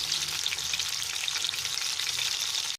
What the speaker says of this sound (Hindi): इसे लटके पलटते हुए अच्छे से फ्राई कर लें।